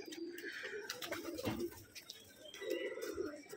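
Pigeons coo in a loft at Abdul Barik's pigeon farm in Rajshahi, low rolling calls repeating close by with a few softer calls overlapping through the clip.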